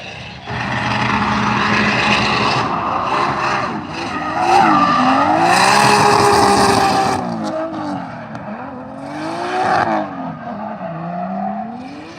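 A drift car runs at Ebisu Circuit in Japan during an autumn drift event, its engine screaming at high revs with pitch rising and falling through the corners and tires squealing, loud and close, easing toward the end.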